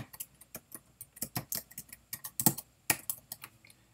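Someone types a name on a computer keyboard, producing quiet, close, irregular key clicks in short bursts with small pauses between, and no talk.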